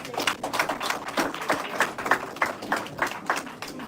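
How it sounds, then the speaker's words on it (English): A modest crowd at the unveiling of a vice-presidential nominee applauds Lawyer Kwame Owusu Danso, with soft, fairly distant clapping in loose waves of a few beats per second. "Please, that deserves another round of applause."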